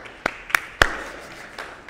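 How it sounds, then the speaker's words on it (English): A few scattered handclaps from a church congregation, three sharp separate claps close together in a quiet room, fading out rather than building into full applause. "Give me a hand and clap of praise real quick."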